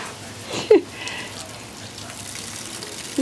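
Water spraying from a garden hose as a child plays outdoors, a steady diffuse hiss with a couple of brief splashing bursts against a vehicle.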